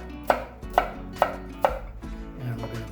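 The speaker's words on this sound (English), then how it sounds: "this we're going to actually chop up into a mince." Knife chopping food into a mince on a cutting board, four sharp, evenly spaced chops close by, followed by softer scraping and tapping.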